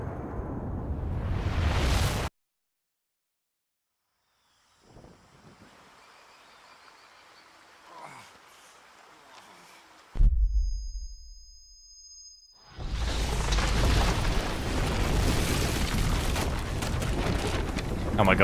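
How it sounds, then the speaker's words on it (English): A loud explosion in the video game Metal Gear Solid Delta: Snake Eater, shown as broadband bursts with near silence between them, ending in a sustained roaring blast that runs to the end. "I'm a bit scared what colour that explosion is going to be."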